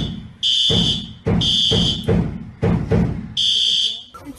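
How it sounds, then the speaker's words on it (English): A school fire alarm at Parkland High School blares in loud, repeated electronic tone bursts that start and stop several times, with low thuds and muffled voices underneath. "this also does have the fire alarm that's going off"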